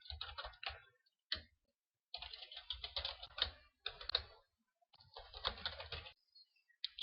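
Rapid bursts of keystrokes on a computer keyboard while code is typed, clustered clacking runs with short pauses between them, close and clear with no talking.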